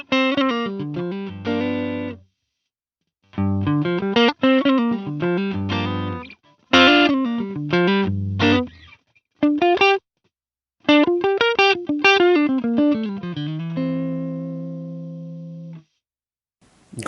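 Electric guitar played through a NUX amp set to its Mesa Mark 1 channel, loud and close with distorted chords and runs in bursts separated by short silences, ending on a sustained ringing chord.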